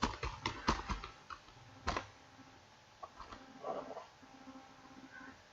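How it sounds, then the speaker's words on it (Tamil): Numbers are typed on a computer keyboard into an Excel spreadsheet. Quick, close key clicks come in an irregular burst, then scattered single taps, quiet and with no talking. "இங்க நான் டைப் பண்றேன் ஒரு நம்பர்"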